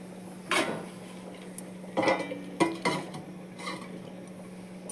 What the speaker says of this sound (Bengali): এবার আমি এটাকে ঢাকা দিয়ে দেবো